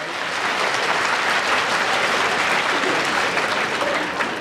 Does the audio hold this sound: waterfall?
no